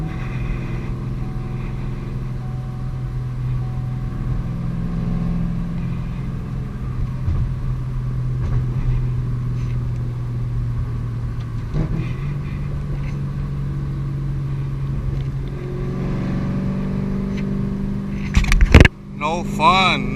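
A Ferrari engine rumbles on a canyon road, a steady low drone under faint voices, with a rising rev sweep near the end.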